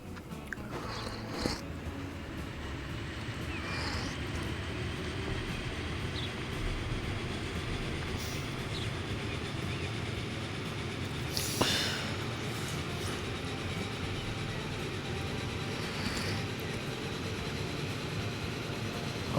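A train runs steadily in the Transport Fever 2 video game, a continuous rumbling roll with occasional sharp clacks, heard alone without talk.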